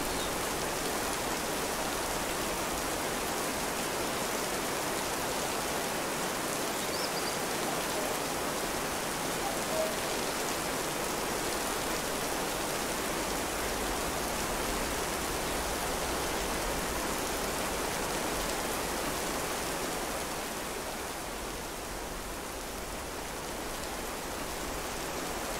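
Steady, heavy rain pours without pause in the open-world survival game This Land Is My Land, a dense even hiss of drops on surfaces that eases slightly near the end.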